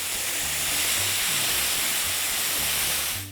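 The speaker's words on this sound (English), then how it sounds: "And let's saute this." Chili paste, chili garlic sauce and peppercorns sauteing in a hot pan, a loud continuous hiss and sizzle that stays steady and close the whole time.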